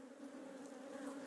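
Honeybees hum in a steady, even drone around an open hive that has just been left queenless, a soft continuous buzz with no voices over it.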